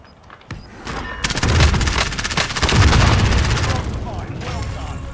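Video game gunfire in Call of Duty Warzone, loud sustained rapid automatic bursts with booming impacts, continuing for several seconds in a busy battle.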